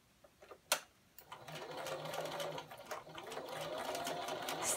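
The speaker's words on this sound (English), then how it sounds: "and stitch the other side" A sewing machine stitches a fabric pillow after a brief click, running steadily and close at an even hum with fine rapid ticking, slightly rising in intensity.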